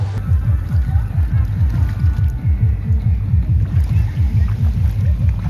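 Boat ride at Dublagadi sea beach: a loud, close motor chugging in a fast regular pulse, with wind buffeting throughout.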